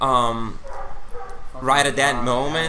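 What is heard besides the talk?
dog barking outside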